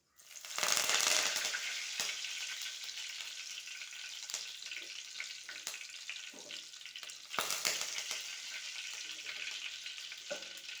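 Curry leaves and fenugreek seeds sizzle and crackle in hot oil, a loud, close, continuous frying hiss with a fresh burst of spatter as more leaves go in, and occasional stirring scrapes.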